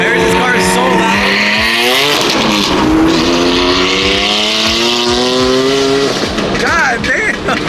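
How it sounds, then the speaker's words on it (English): A loud Nissan GT-R accelerating hard, its engine note climbing through repeated rising gear sweeps with a roaring exhaust, close and dominant throughout. "This car is so loud."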